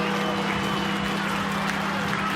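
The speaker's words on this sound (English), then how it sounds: "It's a good crowd here, very partisan as one would expect." Partisan rugby league stadium crowd cheering and applauding for the Penrith Panthers against the Canberra Raiders as the team runs out, a dense, steady roar filling the whole stretch.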